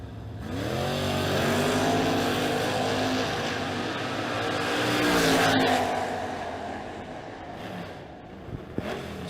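Drag racing cars, including a Camaro, roar down the strip, engines rising and falling in pitch as they pass, loud and close at first, then fading toward the end.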